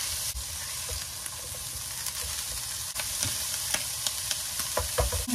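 Dried squid, carrot and radish stir-fried in a pan give a steady, close sizzle, with spatula scrapes and clacks that grow louder toward the end.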